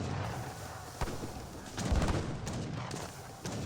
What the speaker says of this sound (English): The Falconets, however, are firing away.